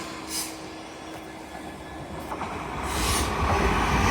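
An LNER Azuma express from London King's Cross to Inverness runs through Doncaster station on the East Coast Main Line, its rumble swelling louder as it nears, with rail clatter and wheel noise.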